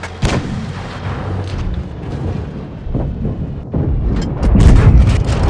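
A tank cannon firing a HESH shell in World of Tanks Blitz, heavy deep booms with rumbling tails amid constant engine and battle noise, loud and close, with a bigger blast near the end.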